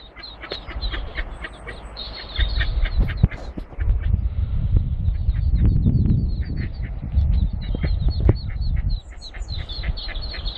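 Ducks quack repeatedly during an animal rescue of early-season swimmers. Harsh, nasal calls sound throughout, partly masked by a loud rumbling, splashing noise in the middle, then come through clearly again near the end.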